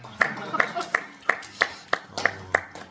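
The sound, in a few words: applause, clapping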